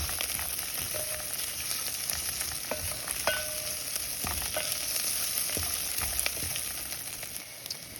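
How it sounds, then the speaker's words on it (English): Onions, ginger and garlic fry in a pan over medium heat, a steady close sizzle with scattered sharp pops and stirring clicks, no voices. "Now that the onions are soft, we'll add the ginger and garlic. And cook for about 1 minute."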